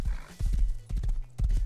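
A horse in the video game Rust clip-clops along in short, steady bursts of hoofbeats, close and fairly loud, with no talk over them.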